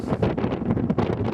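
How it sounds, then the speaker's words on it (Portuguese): Strong wind gusting across a sandy, rocky high-altitude trail on Aconcagua, buffeting the microphone in a loud, continuous roar with rising and falling surges throughout. "agora o vento está mais forte um pouco"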